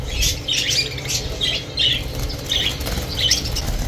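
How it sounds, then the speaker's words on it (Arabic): Grey lovebirds squawk at a crowded Baghdad bird market, giving repeated sharp, close calls with rustling over a steady low rumble of market noise. "طيور حب شكل برصاصي انتاج عراقي هذا؟"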